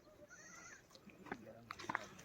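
Faint goat bleats from a village herd of around 40 to 50 goats kept by a smallholder in the Uttarakhand hills, heard at a distance against quiet outdoor ambience, with a few soft clicks and rustles.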